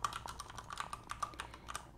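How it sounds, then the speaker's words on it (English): Rapid typing on a mechanical keyboard in a quiet room, a close, crisp run of clicky keystrokes in uneven rhythm, soft and alone with no voice. "I'm just going to get my techno magical mechanical keyboard here."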